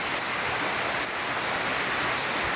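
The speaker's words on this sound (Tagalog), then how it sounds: "Ganyan kalakas ang bagyong Inday." Heavy typhoon rain and wind from Typhoon Inday at signal number 3 roar outdoors as a loud, steady, unbroken wash of noise.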